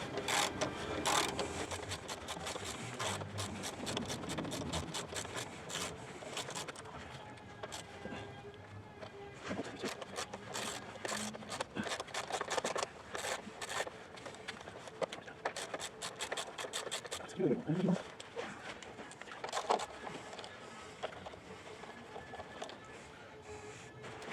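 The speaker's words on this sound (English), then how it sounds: "let's go ahead and get all 4 of these bolts out on the skid plate" A ratchet backing out half-inch bolts from a plastic skid plate on a Trailblazer, a long run of rapid close clicking and rubbing with occasional clunks, continuous and fairly faint.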